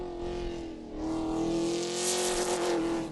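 Ford Racing Ranger V8 rally truck driving, a strong engine drone whose pitch climbs and then holds steady as it pulls harder, fairly close with no talk.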